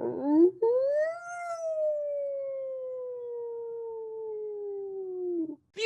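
A human voice imitates a coyote howl: one long, loud, close howl that rises, then slowly falls and wavers for about five seconds, with a brief catch near the start.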